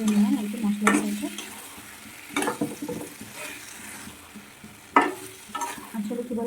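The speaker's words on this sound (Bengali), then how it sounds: "এবার মাংসটা কষে নেবেন। তার সাথে ভালো করে মাখিয়ে নেবেন আর কি মশলার সাথে।" Meat being stir-fried with spices in a home kitchen pan by candle and charger light during a power cut: three sharp spatula scrapes and clanks rise over a steady low sizzle, spaced a couple of seconds apart.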